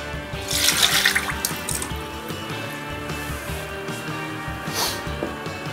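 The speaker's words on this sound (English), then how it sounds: "start with the water." Water is poured for a double-fermented poolish pizza dough, a soft trickling splash with a brief louder gush near the start and again toward the end, over a low background hum.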